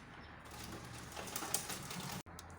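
A sewing machine stitching a peplum seam, running with a steady fine mechanical chatter for about two seconds before a brief abrupt stop, then resuming faintly.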